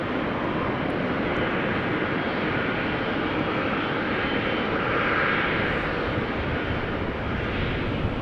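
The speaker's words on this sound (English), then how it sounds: "Next airplane to take off from 18 left is an A320 in the Star Alliance livery" A Swiss Airbus A320 in Star Alliance livery, 27 years old, takes off from runway 18 Left at Amsterdam Schiphol, its engines a steady, loud broadband roar that holds throughout with no voices.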